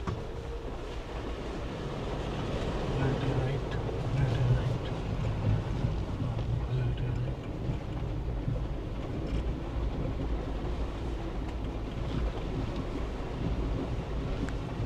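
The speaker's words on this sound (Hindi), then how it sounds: "सतलुज रिवर जो है क्रॉस कर रहे हैं।" A Jeep Wrangler Rubicon in 4L wades across the Sutlej river, giving a steady broadband rush of engine and splashing water mixed with wind buffeting, loud and continuous through the whole stretch.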